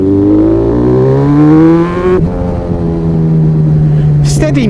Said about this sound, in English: What is that? It's a Triumph flipping rocket.